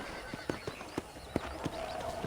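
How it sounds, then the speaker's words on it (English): Rhythmic hoof clip-clops of a horse moving at a steady pace in the video game Red Dead Redemption, with a whinny near the end over faint background ambience. "let's see if you can still ride a horse"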